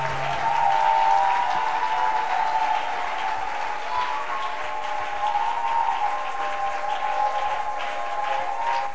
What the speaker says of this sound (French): Est-ce que tu peux un peu acclamer pour Jésus?